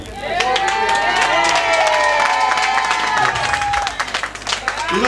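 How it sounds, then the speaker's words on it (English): A crowd applauds and cheers loudly, clapping mixed with shouts and whistles that swell and then taper slightly near the end. "A round of applause to her."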